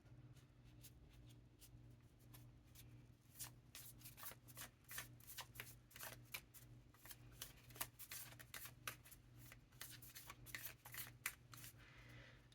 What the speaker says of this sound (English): I'm going to pull a persona card.